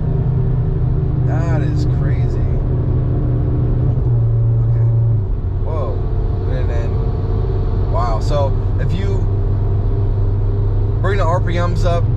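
A car fitted with a 034 Motorsport tuned ECU and TCU holds its engine at high revs during a test drive, giving a steady droning rumble with a brief shift in pitch, under frequent talking from inside the cabin.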